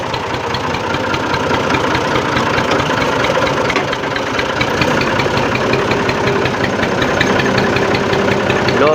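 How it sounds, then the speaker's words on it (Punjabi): A tractor engine labours steadily in low gear, a close, continuous knocking diesel rumble with a fast rhythmic throb and no talk. "ਲੋ ਗੇਅਰ ਲੱਗ ਗਿਆ ਟਰੈਕਟਰ ਦਾ"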